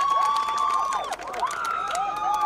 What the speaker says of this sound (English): They also have a sizable number of fans who are cheering them also from the bench